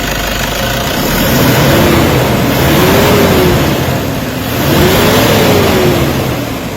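Toyota Hilux engine with low power and throttle delay, revved several times as the pedal is pressed, rising and falling in pitch in slow waves, loud and close.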